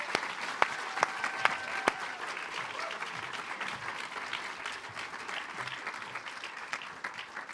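An audience applauds at a startup demo day pitch event, a steady, fairly loud wash of many hands clapping, with a few sharper claps standing out near the start.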